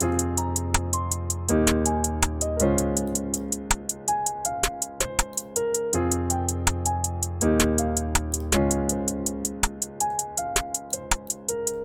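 A looping FL Studio beat with bright hi-hat ticks and sharp snare hits landing at the ends of beats, repeating steadily over bass and synth notes.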